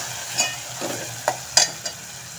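Onions fry on low gas in a pan, a soft sizzle broken by a few quick spatula scrapes and taps against the metal, close and alone.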